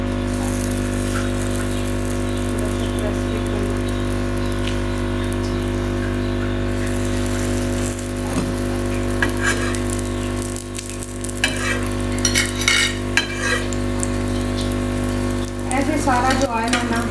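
Sweet crepes frying in a hot oiled pan give a steady close sizzle under a constant low hum, with intermittent crackles and scraping or clinking bursts toward the end.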